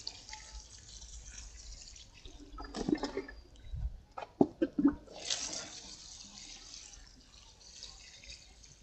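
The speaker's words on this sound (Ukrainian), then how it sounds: "Для початку гарненько проливаємо рослину потихеньку, щоб е, водичка впитувалась." Water is poured slowly onto a potted plant, giving soft intermittent trickling and splashing in short bursts against quiet surroundings.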